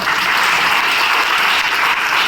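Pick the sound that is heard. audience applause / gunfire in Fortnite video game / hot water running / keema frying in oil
audience applause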